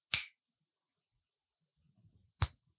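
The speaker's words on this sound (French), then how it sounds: "en un claquement de doigts, je te récupère" Two crisp finger snaps, the first at the very start and the second a couple of seconds later, each sharp and isolated, with only faint low rustling between them.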